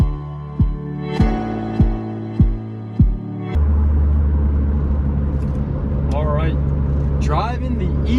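A BMW E46 M3 starts with several sharp cranking or revving blips, then settles into a steady close engine drone on the road with a couple of rising revs as it drives.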